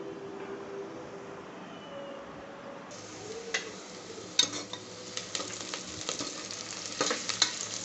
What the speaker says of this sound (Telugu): ఆనియన్ బాగా వేగినాయి అన్నమాట